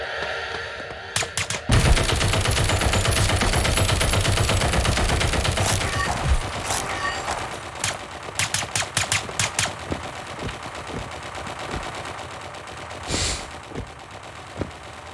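Turret gunfire in the video game Deceive Inc, a loud sustained rattling stream for several seconds that then breaks into scattered sharp shots and short bursts.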